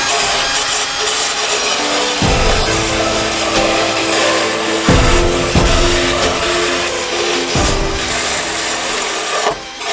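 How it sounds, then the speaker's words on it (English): A drill with a wire brush attachment whirs continuously while a rough scraping and grinding rasp sweeps against a Lotus Evora exhaust, loud and close throughout. "the wire brush attachment on the drill is probably most effective"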